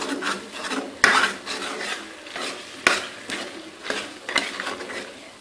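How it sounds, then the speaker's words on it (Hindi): Minced mutton and tomatoes frying on low heat, a soft sizzle broken by repeated scraping strokes of a spoon against the pan, close and steady with no voices. "इन्हें हल्की आंच पे जो है टमाटर कीमे को भूनना है हमने।"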